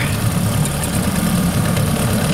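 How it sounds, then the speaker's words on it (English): A 2017 Mercury 9.9 outboard motor idling right after a cold start, giving a close, steady low rumble with no other sounds. "this is cold start right here"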